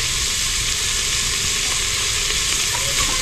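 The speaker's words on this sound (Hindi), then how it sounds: "मटर और गाजर को थोड़ी देर तक भून लेते हैं" Peas and carrots fry in a pressure cooker with a loud, steady sizzle and crackle, close up and continuous, with no voices over it.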